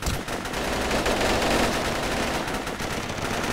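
Sustained automatic gunfire in an isometric tactical shooter video game, loud and close, a dense unbroken rattle of rapid shots lasting the whole stretch with no talk over it.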